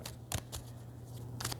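A deck of playing cards is shuffled in a few quick riffling bursts, close and quiet, separated by short pauses, with no talk.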